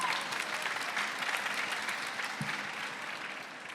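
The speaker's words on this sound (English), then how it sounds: "if we can again have a round of applause for these Wonder Women" Steady audience applause fills a hall at a women's panel discussion on motherhood, a dense, even patter of many hands that slowly tapers toward the end.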